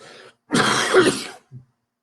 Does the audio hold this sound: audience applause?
no